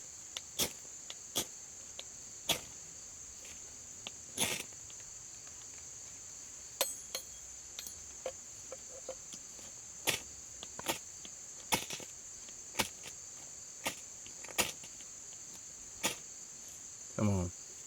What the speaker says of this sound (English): with a ferro rod and a striker,